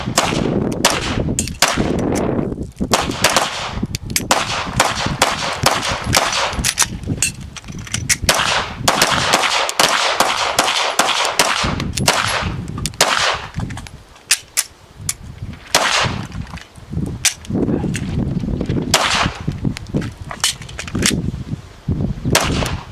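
Pistol shots ring out at an outdoor defensive pistol drill, loud sharp cracks in irregular bursts and single shots from several shooters, near and far, with no talk.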